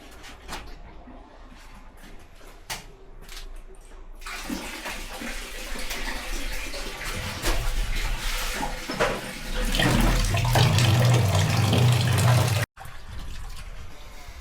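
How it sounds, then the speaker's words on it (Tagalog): Water runs from a tap while something is washed at a lakeside campsite, first as scattered splashes, then as a loud, steady gushing stream that fills most of the clip before cutting off abruptly. "Lamig ng water. Ang hirap maghugas."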